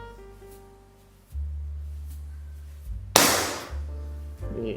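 A Canon 808 pump air gun fires a single sharp shot partway through, close and loud, amid low hum and handling noise.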